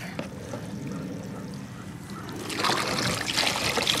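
Water runs and trickles steadily from a hose or tap while a baby stroller is washed outdoors, growing louder and more splashy toward the end, with faint background noise.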